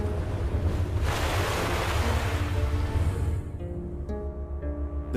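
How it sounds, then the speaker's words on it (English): Broad, steady roar of ocean surf and breaking waves with wind noise on the microphone, loud and continuous, easing slightly toward the end. "The biggest fear for all coastal engineers are massive freak waves."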